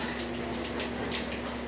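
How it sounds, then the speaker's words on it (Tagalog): Heavy rain pours down in a steady, dense hiss, loud and constant with no breaks. "Ngayon, umulan, ang lakas, ayun."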